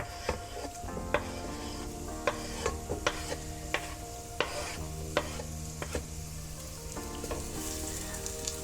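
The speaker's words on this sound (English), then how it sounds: "I want to go ahead and get my leeks in so they can start sweating" Leeks sweating in a hot pan as the heat is turned down to soften them without browning, for a chilled mint and pea soup; a steady low sizzle runs throughout, broken by repeated clicks and scrapes of stirring.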